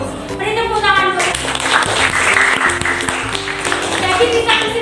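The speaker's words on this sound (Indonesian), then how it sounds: "Beri tepuk tangan buat." A classroom of students claps together in a continuous burst of applause, with voices chattering and calling out over the clapping throughout.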